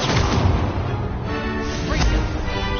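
Stupefy, Levioso and Incendio spells are cast in the Hogwarts Legacy video game, producing loud, close, crackling magical blasts and impacts in quick succession.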